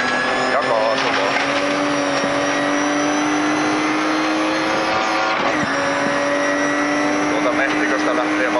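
A rally car engine at full throttle on a stage rally drones loud and continuous from inside the cabin, its pitch holding high with slight shifts, while a co-driver calls pace notes over it.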